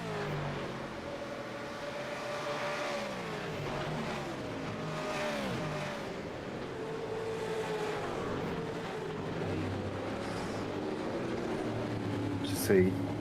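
Several V8 Supercars race around the Sandown circuit in a sim racing game, their engines whining and shifting through revs in overlapping sweeps, moderately loud under continuous commentary.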